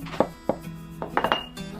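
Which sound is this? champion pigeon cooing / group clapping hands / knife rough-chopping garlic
knife rough-chopping garlic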